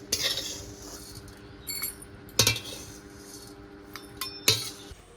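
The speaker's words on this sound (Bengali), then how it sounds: "তো এবার আমি চিড়েটা তুলে নিচ্ছি" Fried flattened rice (chira) being scooped from a pan with a metal spoon in a home kitchen, giving sharp clinks and scrapes at irregular intervals, with a faint sizzle underneath.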